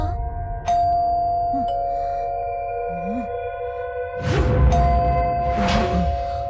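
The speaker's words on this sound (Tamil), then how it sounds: "காலிங் பெல் அடிக்குது" A doorbell rings in a horror film scene, its sustained electronic chime tones ringing out several times over a low background hum.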